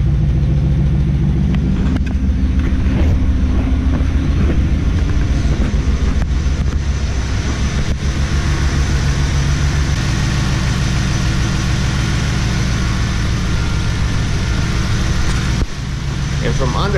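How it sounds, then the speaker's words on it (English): A V8 engine in a Trans Am, Camaro or Corvette idles loudly and steadily with a misfire, a deep continuous rumble with an uneven, stumbling pulse running through it. "So that's a misfire right there."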